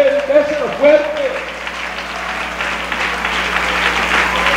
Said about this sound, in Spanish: dele ese aplauso a Él, déselo fuerte.